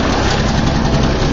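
A Ford F500 truck engine idles steadily with a low, even rumble and broadband hiss, continuous and fairly loud with no pauses.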